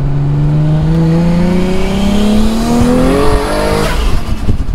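A wide-body Toyota Supra with a TO4Z turbo, rated at 550 hp, pulls hard in second gear, its engine note climbing steadily and loudly before a quick shift and fade.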